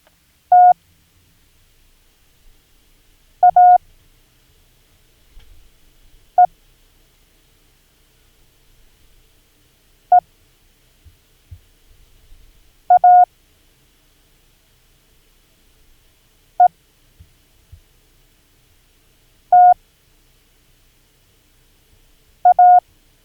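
Morse code letters sent as short clusters of steady mid-pitched beeps, eight separate groups spaced a few seconds apart with quiet gaps between them and a faint low rumble underneath.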